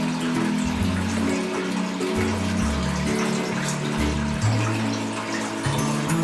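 A cheap homemade dog water fountain with a pump pours water in a steady, continuous stream, close and fairly loud, with no talking.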